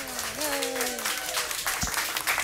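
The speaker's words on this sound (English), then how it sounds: "Please give her a nice round of applause for helping us" Applause for a magician's assistant at a live stage show, a steady patter of clapping that runs under a voice at the start, fairly faint and even throughout.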